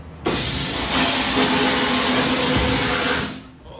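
Media blaster stripping black paint off Honda 200X three-wheeler triple clamps, a loud steady abrasive hiss starting abruptly and holding for about three seconds before tapering off, with no talk.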